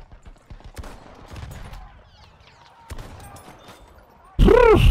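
Scattered rifle shots in the video game Battlefield 1, a few sharp cracks spread over the moment, then a loud blast at the end, with someone talking over it.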